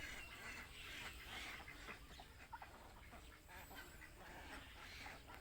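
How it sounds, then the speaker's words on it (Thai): Ducks quack during a morning feeding of ducks and chickens, their calls faint and somewhat distant amid a soft outdoor hum, with no one talking. "เสียงนกเสียงไก่เสียงเป็ดนะครับ"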